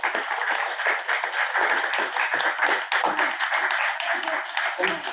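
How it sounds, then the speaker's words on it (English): An audience claps together at a book launch, a steady dense round of applause that holds loud and even throughout with no voices above it. "we can all give ourselves a round of applause"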